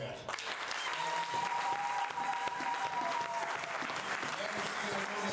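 Church congregation applauding to acclaim the Lord, a dense, continuous round of clapping close by, with voices calling out under it.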